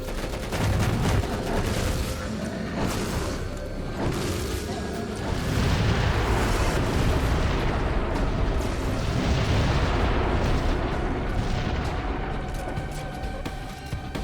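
Repeated grenade blasts and heavy gunfire in the Xbox 360 game Crackdown 2, a dense, continuous roar of booming explosions with no pauses, loud and close, with a voice faintly mixed in.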